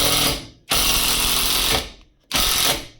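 A GTM impact driver driving a screw whirs in loud bursts, a short one, then a longer sustained run, then another, each cutting off sharply.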